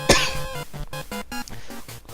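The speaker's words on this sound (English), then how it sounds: "I got to clear my throat." A man clears his throat once, loud and close, with a sharp rasping burst at the start followed by a few short voiced throaty grunts, alone without speech.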